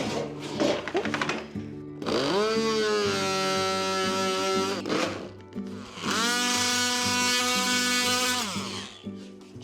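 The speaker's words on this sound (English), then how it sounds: "It's definitely multi-tool time." An oscillating multi-tool cuts into a plastic filler piece set in a wall socket, its loud buzzing whine ramping up and holding in two long bursts with a brief pause between.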